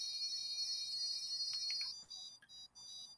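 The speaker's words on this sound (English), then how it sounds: "I'm going to count out 10 beeps." A Dolphin Neurostim handheld stimulator, placed beside a scar on acupuncture points, emits a steady high electronic tone that breaks into short separate beeps near the end, faint and alone.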